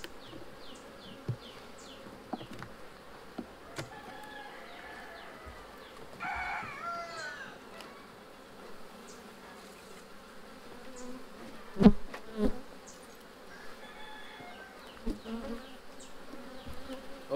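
Honeybees buzz around an open hive during an inspection, a faint steady hum with scattered individual buzzes passing close, plus occasional soft knocks and handling sounds.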